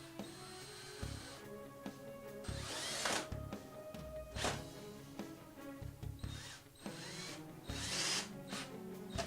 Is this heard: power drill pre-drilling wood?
yes